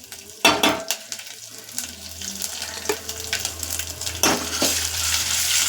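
Ginger garlic paste and curry leaves sizzle in a hot pan while a spoon stirs and scrapes, sharp scraping strokes over a steady, rising frying hiss.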